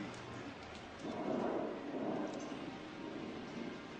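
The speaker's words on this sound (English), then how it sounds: "we've got a thunder sheet" A thunder sheet shakes out a thunder effect, a broad rumbling roar that swells and rolls for a few seconds over a steady hiss, heard without any talk.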